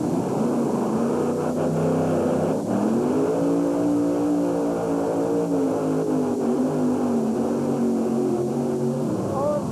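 A monster truck engine revs hard and steadily to about 3,500 RPM, a loud sustained roar with rising and falling pitch, close by and alone.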